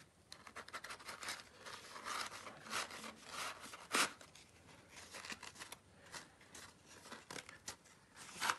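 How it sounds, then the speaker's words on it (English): Scissors snip and rub through paper to widen a hole for the stem of a handmade paper tulip, a close, quiet run of scratchy cuts and rustles with one sharper snip midway. "Sometimes the hole is not big enough, so I can use the scissors to make it slightly bigger."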